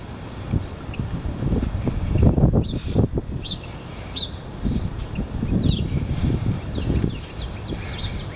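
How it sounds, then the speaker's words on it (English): Heavy wind gusts and rumbles against the microphone in surges of rising and falling force, with faint bird chirps in the distance and no talk. "Here it is. The heavy wind."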